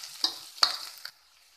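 Chopped onion and slit green chillies sizzle in a pan with oil, a short soft frying hiss broken by two or three sharp stirring scrapes, then fading to quiet.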